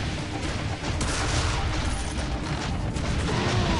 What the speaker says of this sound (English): It's a little hard to avoid that many missiles.